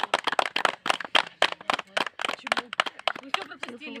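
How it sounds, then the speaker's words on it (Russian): A small group clapping briefly at a campfire outdoors, quick uneven claps close by, mixed with talking voices. "Да, аплодисменты."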